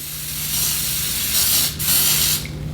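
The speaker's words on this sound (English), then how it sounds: "I like to use like a little spray." Sustained aerosol hairspray hissing close by in long bursts onto the lace of a wig, with a brief pause near the middle before spraying resumes, then tapering off.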